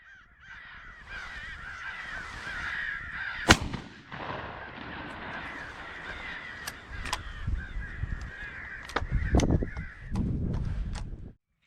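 Crows caw repeatedly on a farm during a crow hunt, a continuous chorus of harsh calls broken by several sharp gunshots and a few louder thumps toward the end.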